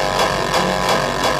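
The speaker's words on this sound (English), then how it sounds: "This is a Dutch bass drum." Heavily distorted Dutch hardcore bass drum from the Rob Papen RAW synth, hitting about four times in a quick steady pulse, loud, buzzing and saturated, with no voices.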